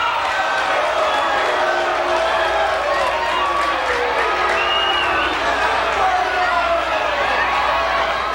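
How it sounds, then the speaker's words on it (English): A boxing event crowd jeering at a wild female fighter, a loud, dense roar of booing and shouting that holds steady throughout, with voices mixed into the din. "The crowd not happy with the wild woman. They lead the jeers while she asks for cheers."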